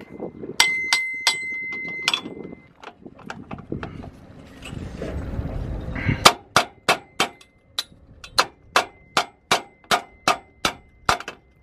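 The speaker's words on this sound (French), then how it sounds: "je vais peut-être devoir prendre le marteau" Sharp metallic clanging strikes of a hammer on a caravan leg, first irregular and mixed with scraping, then a steady run of about a dozen evenly spaced ringing hammer blows, fairly close.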